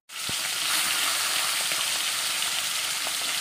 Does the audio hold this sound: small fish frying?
yes